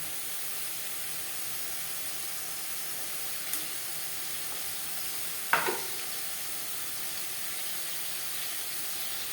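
Green chili paste with ginger-garlic paste fries in a pot for chicken vegetable soup, giving a steady low sizzle and hiss throughout, broken by one sharp clink of a spoon against the pan midway.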